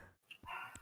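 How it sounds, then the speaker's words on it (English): A pet dog barks a few quick times in the background, faint and distant in a quiet room, the short yaps separated by brief pauses. "I hear a dog in the background."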